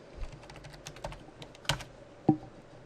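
Someone types on a computer keyboard, giving a soft, quiet run of irregular keystrokes with a few sharper, louder clicks standing out.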